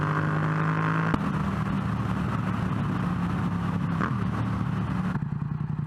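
A Yamaha MT-07 motorcycle fitted with a new air filter, its engine droning steadily at road speed with a pitch shift partway through as the throttle changes, wind noise throughout.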